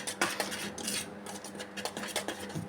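A spoon clinks and scrapes against a bowl as oil and powdered sugar are mixed for an eggless, butterless custard sponge cake, giving quick, irregular metallic taps and rattles at close range with no talking.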